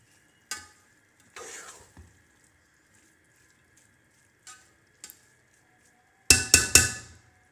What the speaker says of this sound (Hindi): और थोड़ी देर चम्मच चलाना है